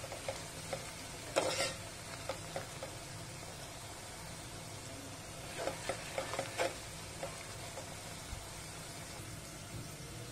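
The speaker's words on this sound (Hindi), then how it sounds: "आप देख सकते हैं प्याज हमारी फ्राई हो रही है।" Onions fry in a pan for Hyderabadi chicken biryani, a low steady sizzle under a spoon scraping and clinking in a few bursts, fairly faint, with no one speaking.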